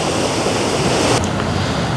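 Water pours continuously at the Sadhery waterfall in Samahni, a loud, dense, steady rush of falling water that fills the whole span without pause and with no voices heard.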